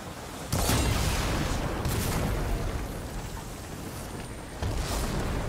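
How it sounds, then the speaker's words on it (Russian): Explosions go off nearby in the video game Horizon Forbidden West, with loud booms and crackling blasts that rise at the start, trail off into a rumbling decay, then burst again near the end. "Офигеть, взрываются рядом."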